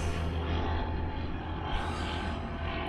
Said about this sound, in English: there's just another plane going up there.